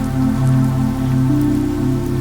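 Steady rain falling at night outside a quiet bar, a continuous even wash that holds at a fairly loud level under a low, constant hum, with no talking.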